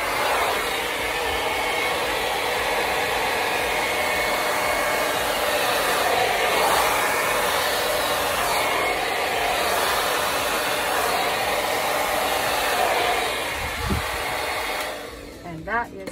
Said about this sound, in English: I'm liking this hairdryer.